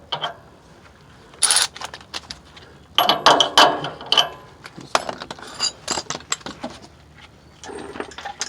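A ratchet tightening a 17 mm sway bar link nut on a 2000 Toyota 4Runner, bursts of close, sharp clicking strokes separated by short pauses.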